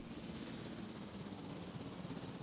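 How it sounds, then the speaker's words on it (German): Helicopter in the video game Jurassic World Evolution gives a steady, faint rotor and engine drone that holds evenly throughout with no talk over it. "Aber der Heli kommt ja gerade wieder."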